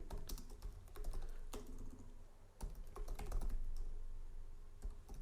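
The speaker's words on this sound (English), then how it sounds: "if I open the command prompt and type ping insectechs.in" Keys clack on a computer keyboard as a ping command is typed into a command prompt, a quick irregular run of light, close taps with short pauses, quiet and without voices.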